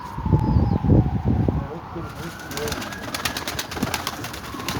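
Soft, low coos of a young pigeon repeat in a short burst near the start, with rustling, outdoor background noise and faint chirps continuing afterward.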